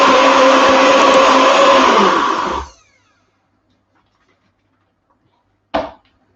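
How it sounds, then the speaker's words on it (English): A food processor whirs loudly, blending a vegan dessert mixture with vanilla and cocoa for about two and a half seconds before winding down to silence, followed by a brief clunk near the end. "all I'm going to do is to blend this up on my food processors."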